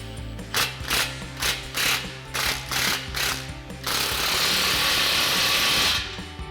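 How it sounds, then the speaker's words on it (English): A ratchet with a 15mm socket tightens an exhaust clamp on an EcoBoost F-150, giving about seven rhythmic clicking bursts up close, followed by a faster continuous whirring burst. "Now you can slide your clamp in place, tighten it down with a 15mm socket."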